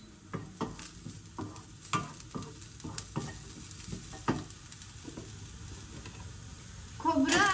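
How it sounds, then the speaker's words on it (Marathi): Grated coconut and garlic roast in a pan with peanuts and coriander. Soft sizzling runs under a string of scraping stirs that land roughly every half second, and a louder burst of sizzle comes at the end. "खोबरं आणि लसूण पण थोडासा भाजून घेणार आहे"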